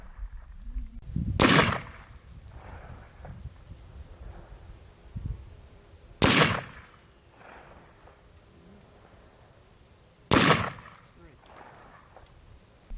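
An AR rifle fired outdoors: three loud, sharp gunshots spaced several seconds apart, each with a short echoing tail, and a person speaking quietly in the gaps.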